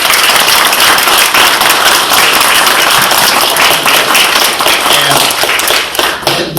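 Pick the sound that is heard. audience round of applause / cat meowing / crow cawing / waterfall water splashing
audience round of applause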